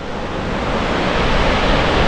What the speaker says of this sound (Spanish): ¿están preparados para ver otra grandiosa cascada vikinga?